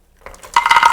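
Cashews drop into a pan for pumpkin halwa, a faint rattle building into a bright, dense clatter of nuts scattering across the metal, close and loud.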